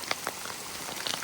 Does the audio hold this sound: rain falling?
yes